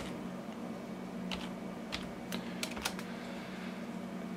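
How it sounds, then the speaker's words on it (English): Keystrokes on a computer keyboard entering a geocache code, a few soft scattered taps over a steady low hum, fairly faint and with no voices. "I basically go to log a cache, and I type in the cache code for the cache where they came from."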